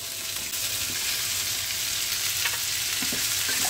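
Okra (bhindi) fries in a pan over a high flame, giving a loud, dense, continuous sizzle with a few faint stirring clicks.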